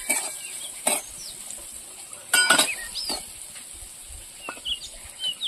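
Finely chopped carrot stirred in a pan for semolina idli batter, a faint sizzle under a few sharp spatula scrapes, with chickens clucking in the background.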